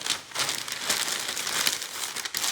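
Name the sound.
crumpling a piece of paper for a paper mache armature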